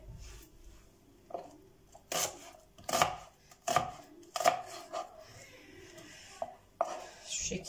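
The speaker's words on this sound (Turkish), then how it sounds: "Hemen soğanımı da yine büyük büyük doğrayıp atacağım." A knife chops an onion into large pieces on a cutting board in a series of irregular, close, crisp thuds with short pauses between strokes.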